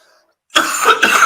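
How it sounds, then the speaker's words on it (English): A single short cough breaks the silence, followed by a second rough cough moments later, close to the microphone. "Excuse my cough."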